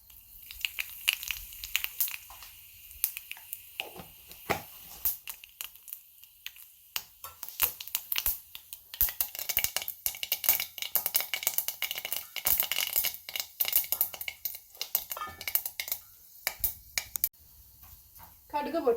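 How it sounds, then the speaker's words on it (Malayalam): Mustard seeds pop in hot coconut oil in an iron pan as a tempering for banana-stem thoran. Dense, irregular crackles and sharp snaps start sparse, then build into a busy, sizzling burst of pops up close. "ഈ സമയത്ത് നമുക്കിതിലേക്ക് കടുകിട്ട് പൊട്ടിച്ചു കൊടുക്കാം."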